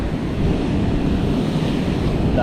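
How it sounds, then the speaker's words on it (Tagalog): Large ocean waves break on a shore in a continuous loud roar, mixed with heavy wind buffeting the microphone. "grabe, lalaking alon."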